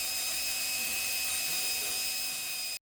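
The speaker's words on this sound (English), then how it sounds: "I'm going to use an ultra soft nylon disc on my drill" Power drill spinning an ultra soft nylon disc to clean aluminum cylinder heads from a 2014 Kawasaki Mule 4x4, a steady high-pitched whir with a constant tone, close and loud, then cutting off abruptly at the end.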